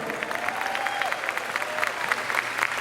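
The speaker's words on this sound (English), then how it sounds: "More applause." Crowd applause for the mayor of Tupelo, Mississippi, dense continuous clapping at moderate distance with a few voices and a whistle-like tone rising over it.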